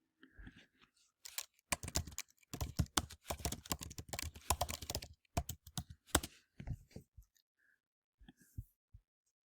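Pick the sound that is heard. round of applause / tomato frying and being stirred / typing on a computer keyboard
typing on a computer keyboard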